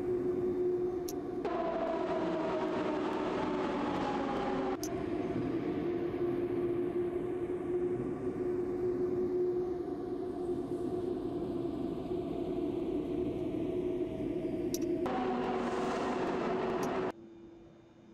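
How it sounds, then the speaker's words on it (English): A metro train in the Roblox game Metro Transport gives a steady, droning electric motor hum with a tonal whine. Brighter, louder bursts rise and cut off abruptly a few times before the sound drops near the end. "we'll just wait for that train in front to clear the platform"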